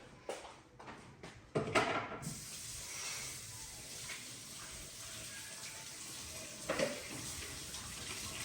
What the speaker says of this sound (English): Let me quickly rinse the blender off.